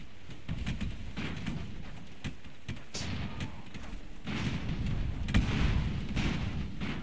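Rifle fire from an airship in Airships: Conquer the Skies, two rifles per vessel: rapid sharp gunshot cracks and small bursts in an irregular rhythm over a steady low rumble of battle, loud and close throughout, with no talking.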